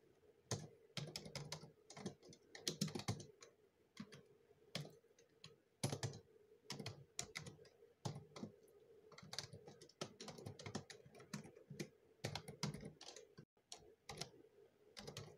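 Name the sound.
typing code on a computer keyboard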